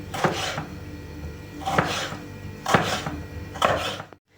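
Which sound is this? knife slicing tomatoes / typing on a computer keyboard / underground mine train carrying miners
knife slicing tomatoes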